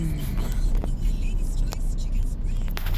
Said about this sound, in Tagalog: Walang katapusan ng traffic dito sa atin sa Pinas.